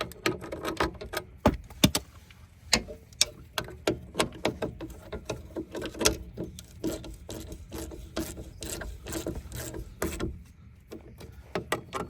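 A part tightened by hand during rear brake work on a vehicle, with repeated sharp scraping and ratcheting clicks in an irregular rhythm, close and fairly loud, with no talk.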